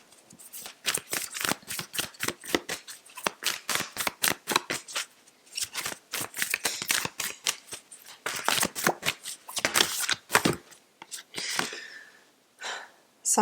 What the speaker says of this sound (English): Libra, let's get a Yogic Path card out.